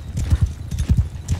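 A horse's hooves pound out a fast, steady clip-clop gallop in the medieval combat game Mount & Blade II: Bannerlord, loud and close with a regular rhythm.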